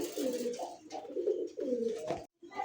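Caged pigeons coo in repeated low, throaty phrases, close and fairly loud, with a brief silent gap near the end before the cooing resumes.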